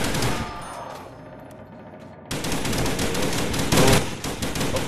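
Rapid gunfire from a VR Nazi zombies shooter game, dense bursts of shots that drop away briefly, then return louder and sustained through the rest.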